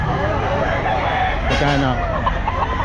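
Black Spartan rooster crowing and clucking amid a busy pet market in the Philippines, the calls mixed into crowd noise while people talk nearby.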